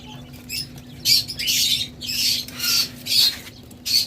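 Caged birds at a bird seller's, king quails and lovebirds, squawking in repeated loud bursts close by over a steady low hum.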